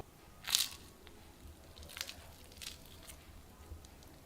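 Someone bites into a crispy fried semolina and boiled potato snack: a loud close crunch, then several softer crunches of chewing spread over a few seconds with no talk.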